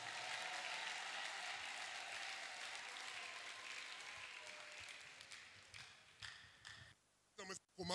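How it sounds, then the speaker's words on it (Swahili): A congregation claps at a Pentecost church seminar: dense, steady applause mixed with voices for about five seconds, then thinning into scattered claps and a few sharp taps before fading. "Shangilia kwa makofi."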